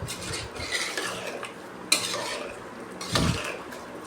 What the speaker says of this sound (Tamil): இப்போ அதையும் நல்லா ஒரு கிண்டு கிண்டி எடுத்துக்கலாம்